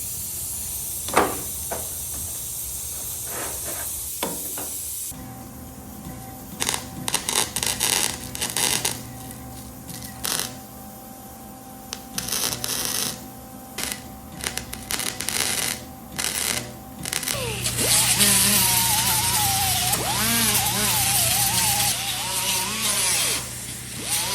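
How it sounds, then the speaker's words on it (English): Small steel pieces being welded onto a 1958 Chevy, a harsh buzzing crackle that starts and stops in short bursts, then runs longer and louder near the end over a faint shop hum. "So we'll get these welded in."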